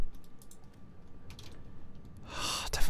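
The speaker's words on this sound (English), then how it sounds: "Sorry for all the random clicking." Quick, light keyboard and mouse clicks tap away close by during PlayerUnknown's Battlegrounds play, ending in a brief burst of louder rustling noise.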